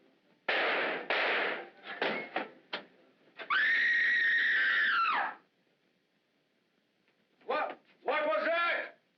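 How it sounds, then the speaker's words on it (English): In an American noir film, a sharp bang is followed by a person's long, loud, sustained scream, with voices talking before it and again after a pause. "Who screamed?"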